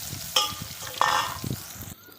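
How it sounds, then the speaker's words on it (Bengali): Brinjal slices rubbed with salt and turmeric frying in hot oil in a pan, a close crackling sizzle with two sharp bursts as pieces hit the oil or are stirred. "বেগুনটাও ঠিক একই পর্যায়ে ভাজা হবে।"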